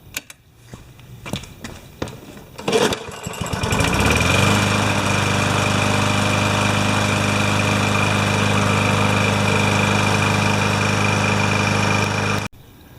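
A Yard Machines lawn mower, after a full carburetor clean, gives a few sharp pulls and sputters, then its small engine catches and settles into a loud, steady running drone until it cuts off abruptly near the end.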